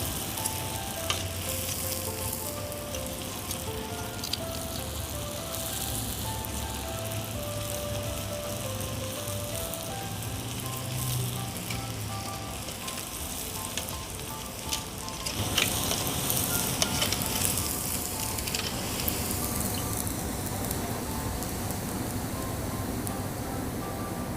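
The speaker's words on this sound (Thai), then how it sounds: "หลังจากที่เรานำลูกชิ้นลงทอดนะคะ" Flour-battered pork balls deep-fry in hot oil until crispy, making a dense, continuous crackling sizzle that holds steady and close for over twenty seconds. It grows slightly busier partway through, with no voices.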